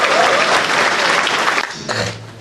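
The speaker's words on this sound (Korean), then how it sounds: "이분에게도 더 큰 박수 부탁드리겠습니다." Loud, dense clapping from a crowd at a political forum fills the space, then thins out and trails off toward the end.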